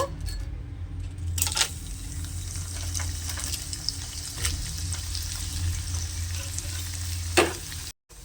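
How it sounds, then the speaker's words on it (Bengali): Beetroot and leftover rice papad frying in hot oil, a steady close bubbling sizzle with a few sharp clatters and taps, quiet and free of speech, cut off abruptly near the end. "এখন বিটের পাঁপড়টা ভেজে নেব।"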